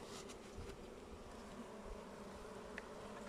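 A dense, continuous buzz of many honeybees at an open hive fills the air, a steady droning hum with individual insects flitting close now and then.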